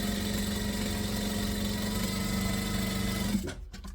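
A sewing machine runs steadily, stitching marine vinyl for a zippered organizer, a loud continuous mechanical whir that stops abruptly near the end, followed by a few faint handling clicks.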